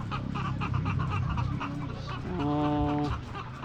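Chickens in a small poultry farm during very hot weather cluck loudly and close by in overlapping bursts, with one hen letting out a sustained, tonal call near the end.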